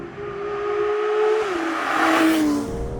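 A Porsche 911 GT3 Touring's engine pulls hard while driving, its strong tonal note climbing and then dropping twice as gears shift, loud and close with no talking.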